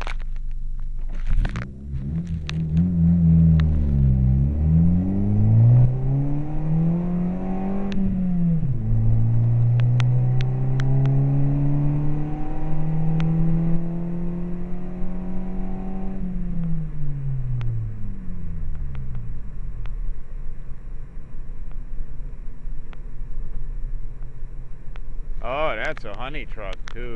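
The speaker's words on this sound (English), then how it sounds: "And there's another truck." A big truck rolls past on the road, a loud, close engine rumble rising and falling in pitch as it shifts gears and slowly fades. A second vehicle's harsh roar cuts in near the end.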